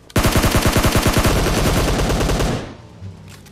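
Automatic gunfire in the video game PUBG Mobile: a loud, close, rapid burst of shots in tight rhythm lasting about two and a half seconds, then cutting off into quieter background.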